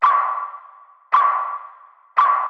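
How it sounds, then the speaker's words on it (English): A distorted, reverb-soaked synthetic percussion hit in an Ableton production repeats three times about a second apart, each strike sharp and loud with a long ringing tonal tail that fades before the next. "I'm going to introduce some kind of distorted reverb percussion element"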